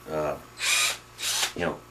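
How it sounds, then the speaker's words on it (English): A regular cordless drill, used while installing a mancave door, spins up in three short, loud bursts separated by brief pauses, with a voice at the start and end. "cordless drill"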